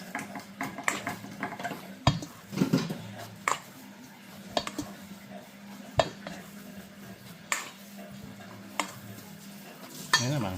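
Sesame ball dough mixture stirred by hand in a pot, making a steady wet scraping and stirring with occasional louder clinks of the utensil against the pot, close and continuous under a low background hum.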